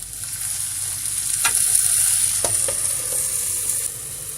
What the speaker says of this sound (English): Here I'm frying.